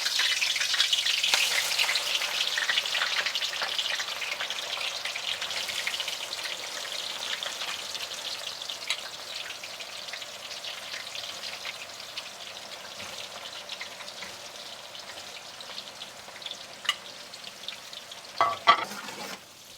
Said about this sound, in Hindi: तो अब हमने फ्राई करना है इस ऑनियन को।